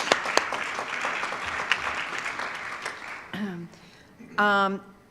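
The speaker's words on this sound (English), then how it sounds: "So let's give them a round of applause." An audience applauds sponsors at a charity event, steady clapping for about three seconds that fades as a voice starts talking over it.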